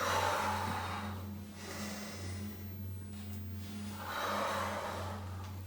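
Two long, close exhalations come during a floor exercise session, each a soft breathy rush separated by a pause, over a steady low hum.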